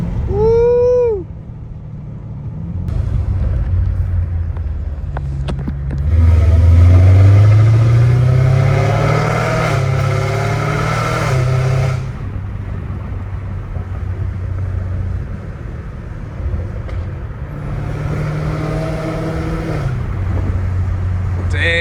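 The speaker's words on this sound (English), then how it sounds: "the exhaust sounds crazy" A powerful Dodge Hellcat Redeye engine revs up loudly with a deep exhaust roar, then settles into a rumbling idle that swells again later.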